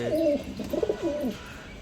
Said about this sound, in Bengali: এটা আমাদের সেই হাই ফ্লায়ার পাকঝোলা কবুতর